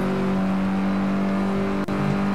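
A sports car engine in Forza Horizon 4 drones steadily at high revs, close and loud, with a brief dip near the end before the tone resumes.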